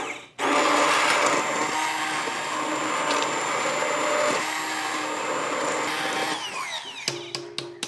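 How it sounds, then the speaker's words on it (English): Hand blender whirs steadily in a pot of soup in a one-pot outdoor cooking setting, loud and continuous for several seconds before cutting out with a few clunks at the end. "we are going to use this hand blender in our pot, because it's a one-pot wonder, to blend the soup all together"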